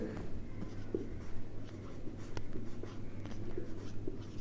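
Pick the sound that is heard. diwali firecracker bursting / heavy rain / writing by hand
writing by hand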